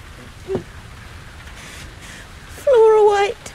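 Light rain patters steadily in the background outdoors, faint and constant beneath a brief tone and a spoken voice.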